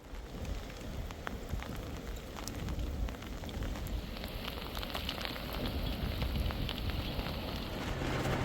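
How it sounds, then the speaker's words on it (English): Light rain patters steadily on a fishing trip along the Holderness coast and the Humber, a soft, constant crackle of drops with scattered sharper taps and no voices. "it's raining just a little bit"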